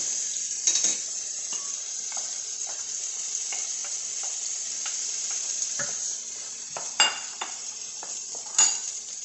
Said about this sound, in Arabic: دابا غادي نرمي البصلة